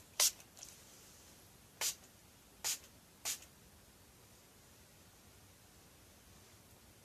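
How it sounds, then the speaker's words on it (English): A facial mist is sprayed onto the face in four short hissing bursts, one at the start and three more spaced about a second apart, close up against a quiet background. "I needed to spray my face with"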